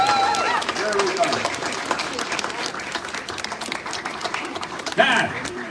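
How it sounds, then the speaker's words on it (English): A crowd at St Piran's parade in Truro clapping steadily, with cheers and a few voices calling out over the applause, one sharp shout near the end. "So let's have a quick applause, round of applause to Reach Heaven for Jim Pengelly."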